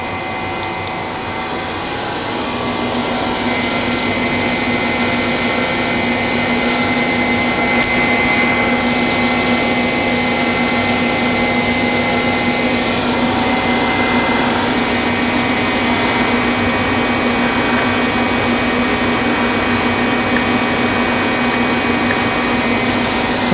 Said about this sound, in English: The alternator is doing 97 amps.